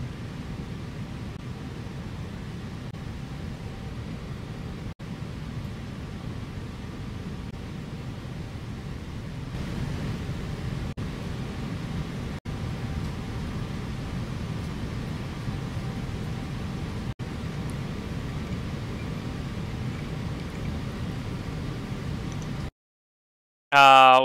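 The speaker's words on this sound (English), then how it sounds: "do 747 interior, which is indeed track 109" Steady broadband roar of a Boeing 747 cabin interior, a constant even hum of airflow and engines with faint distant murmurs of passengers, continuous throughout and cutting off abruptly near the end.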